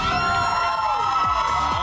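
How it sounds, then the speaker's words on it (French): A TV studio audience cheers and whoops loudly on a reality makeover show set in a bar, a dense, continuous crowd roar with shouts rising over it throughout. "Applaudissez Morgan McMichaels!"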